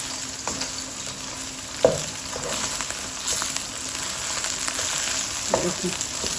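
Ladle stirs cooked bitter gourd with minced meat in a pan, with a few scraping knocks over a steady frying sizzle.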